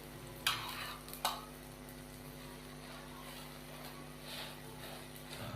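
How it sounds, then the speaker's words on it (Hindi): An egg fries in a pan, a faint steady sizzle with two sharp clicks of a utensil near the start and soft scraping later, no voices. "तो मज़ेदार सा हमारा अंडा फ्राई हो चुका है।"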